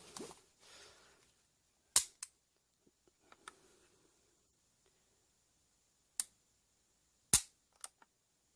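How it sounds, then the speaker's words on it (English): Dry-fire trigger pulls on an Armscor MAP1 FS pistol: a handful of sharp, close metallic clicks spaced by quiet pauses, two of them landing in quick pairs. "let's do the trigger pull"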